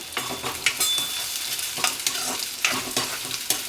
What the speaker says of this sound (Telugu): మొత్తం యానియన్స్ అన్నీ కూడా ఈ నూనెలో బాగా మనకు ఫ్రై అయ్యేదాకా బ్రౌన్గా ఫ్రై అయ్యేదాకా వేయించాలన్నమాట